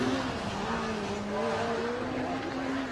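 A Formula SAE race car engine drones steadily at high revs during an acceleration test, a loud sustained buzzing tone with slight pitch wavering and no voices.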